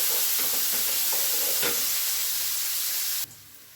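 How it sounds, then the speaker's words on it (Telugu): Onions, green chillies and curry leaves sizzle steadily in hot oil in a pan, with a few soft stirring scrapes under the loud frying hiss before it cuts off abruptly near the end. "కరివేపాకు ఉల్లిపాయ ముక్కలు మిర్చి వేసి వేయించుకున్నామండి"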